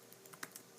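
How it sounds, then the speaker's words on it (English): Typing on a computer keyboard while entering text into an Excel chart: a quick, faint run of light key clicks, close and without talk. "then I can start typing"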